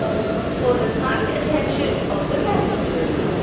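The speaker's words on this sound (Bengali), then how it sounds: "পাশ থেকে ফার্স্ট ওভারটেক হলো হাওড়া রাউরকেলা বন্দে ভারত এক্সপ্রেস" The Howrah–Rourkela Vande Bharat Express overtakes on the adjacent track, a loud continuous rumble and rush of rolling wheels heard from inside a moving train, steady throughout the short stretch.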